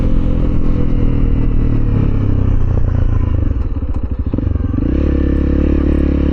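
Loud, close exhaust of a Honda CRF300L with a Black Widow exhaust droning steadily, dipping briefly as the revs change before rising again.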